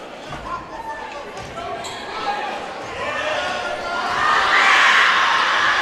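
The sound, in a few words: student section crowd screaming at basketball game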